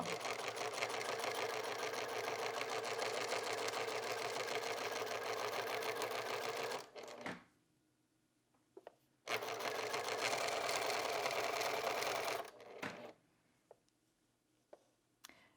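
Sewing machine stitching T-shirt fabric, a steady rapid mechanical whir running in two bursts with quiet pauses and small clicks between them.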